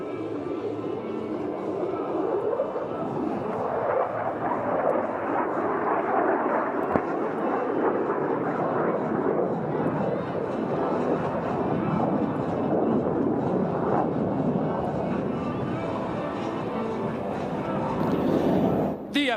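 F-35 jet at an air show flying an inverted pass after a 360-degree roll, a steady loud roar sustained throughout under continuous announcer commentary.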